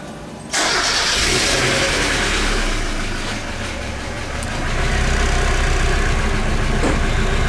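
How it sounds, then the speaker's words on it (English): A 1991 Mazda Miata with its stock exhaust, jacked up, cranks and fires after a brief pause, then settles into a loud, rumbling idle that swells slightly toward the end, with no talking. "gonna fire it up"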